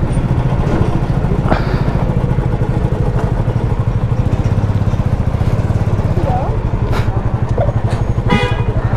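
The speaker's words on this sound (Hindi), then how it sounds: "तो गाइज अपन सबकी बाइक तैयार हो रही है, सबका कोल्ड स्टार्ट भी हो चुका है लगभग" Several motorcycles, including Royal Enfield Bullets, idle together after a cold start on Nainital's Mall Road, a loud, close, steady thumping engine rumble with a few horn toots and clatter near the end.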